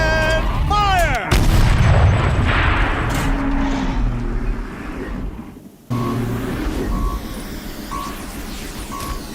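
A turret fires in the video game Horizon Zero Dawn, a heavy booming blast with a rumbling tail, followed by mechanical hums and scattered game sounds.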